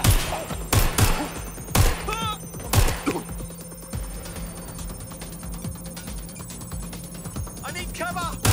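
Enemy gunfire in the Watch Dogs: Legion video game, sharp shots clustered in the opening three seconds, then sparser cracks over a busy game soundscape, with speech mixed in.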